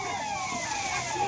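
A fire tender's wailing siren sounds steadily at a fire in the Mahakumbh grounds at Prayagraj, a continuous loud tone over road and crowd noise.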